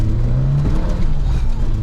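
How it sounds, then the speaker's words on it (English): A 1988 Peugeot 205 GTI hot hatch revs hard while being driven on a wet road, a loud, close, buzzy engine note that climbs and surges steadily throughout, with no talking over it. "Fizzy engine wants to rev, that's for sure."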